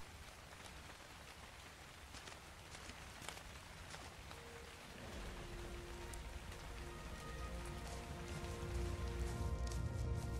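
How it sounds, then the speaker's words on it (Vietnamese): Rain falling at night in the video game ARK: Survival Evolved, a steady hiss of raindrops on surfaces that deepens and grows heavier halfway through, with no voices. "Trời tối với mưa rồi."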